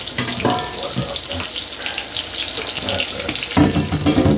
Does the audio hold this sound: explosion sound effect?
no